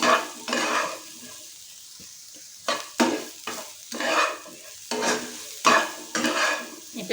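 A spoon scrapes and stirs potatoes and lentil fritters through a frying curry in a pan, loud rhythmic bursts of scraping over a low sizzle, close up and with no voices.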